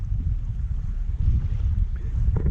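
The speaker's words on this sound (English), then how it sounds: "It's usually windy here, and today it is." Steady low wind buffets the microphone, a continuous rough rumble with faint water noise underneath.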